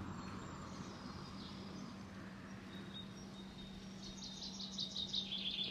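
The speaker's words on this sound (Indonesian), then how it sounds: "suara burung-burung udah menandakan ini adalah musim semi" Faint bird chirps and twitters sound in the distance over a steady low hum, with a few quick high calls toward the end.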